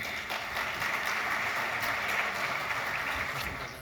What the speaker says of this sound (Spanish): a quien recibimos con un aplauso